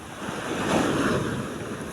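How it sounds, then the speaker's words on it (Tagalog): Big ocean waves crash and surge near a ship at sea off Matnog, a continuous roaring wash with strong wind noise, no voices. "lakas na laki ng alon"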